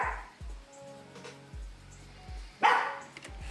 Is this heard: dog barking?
yes